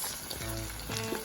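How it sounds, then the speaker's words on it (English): A pepper, onion and tomato mix for Ghanaian jollof rice hisses in hot oil, a short, steady sizzle heard close up. "So I'm putting my pepper and onion tomato mix."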